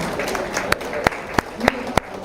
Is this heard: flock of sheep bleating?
no